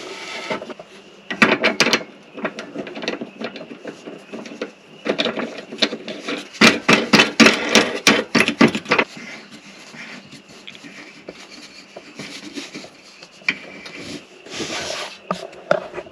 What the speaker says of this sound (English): Now I take this thing, wing nut, whatever you want to call it, and put it on this end and tighten it down.